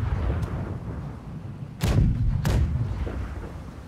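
Ship cannons firing in the naval video game Blackwake, two loud booming shots about half a second apart over a heavy low rumble, with a fainter distant thump before them.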